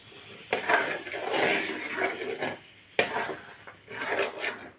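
Coconut flower lehyam stirred in a pan with a utensil, giving soft scraping and rubbing strokes that come in a few bursts at close range.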